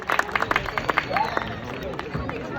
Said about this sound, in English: let's give him a big round of applause as he heads on home